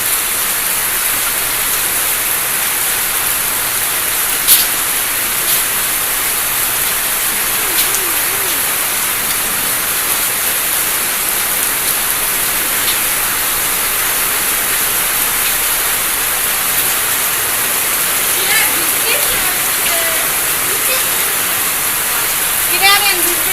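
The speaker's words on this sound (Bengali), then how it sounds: "আর দেখুন স্রোতের মতো এখান থেকে পানি যায়।" Heavy rain pours steadily with a dense, even hiss as runoff water streams along the ground, a constant wash throughout with a few faint bird calls and light knocks near the end.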